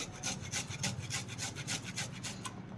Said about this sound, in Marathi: त्यामध्ये आपण आलं किसून घालायचं आहे